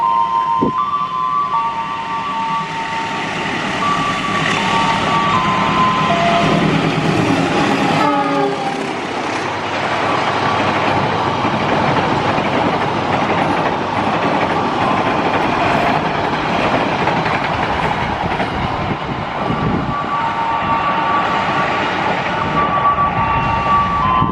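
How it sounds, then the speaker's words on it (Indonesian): The Argo Merbabu passenger train rolls through Klari station, a loud continuous rumble of wagons with clattering wheels and a sustained horn blast near the start, heard close and alone. "Berikutnya kereta api Argo Merbabu 24."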